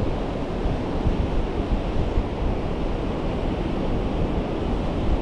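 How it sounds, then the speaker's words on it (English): Sea water rolling in on the foreshore at low tide on Chapel Six Marshes, a continuous rough broadband wash of surf mixed with wind buffeting the microphone, loud and unbroken throughout. "the foreshore where the water is just rolling in"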